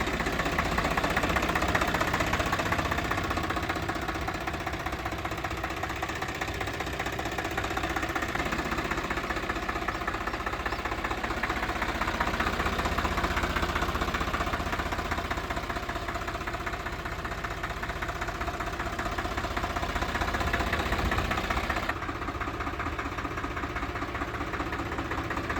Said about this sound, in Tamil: tractor சுராஜில் 963 FE 4 wheel டிரைவிங்க 2020 model, 2 owner வண்டிங்க